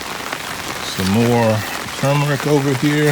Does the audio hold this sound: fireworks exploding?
no